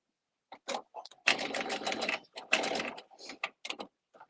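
A serger sews a seam in loud, close mechanical bursts separated by short pauses, with a few brief clicks and clatters between runs.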